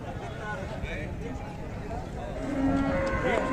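Calves and cattle at a livestock market low and moo close by, with a drawn-out moo near the end, over a busy, murmuring crowd and talk.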